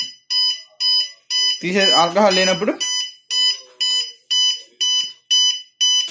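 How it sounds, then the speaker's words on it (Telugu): A drunk-driving engine-lock model sounds its buzzer after detecting alcohol: loud, shrill electronic beeps pulse in a regular on-off rhythm. Someone speaks briefly over it. "ఇంజిన్ ఆగిపోయింది, మనం బజర్ మోడేస్తుంది"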